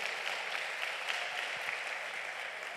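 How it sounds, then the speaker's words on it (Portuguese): Church congregation applauding during a celebration service in Paragominas, broad even clapping that sounds somewhat distant, with a few louder claps standing out. "Vamos aplaudir mais uma vez o Senhor Jesus"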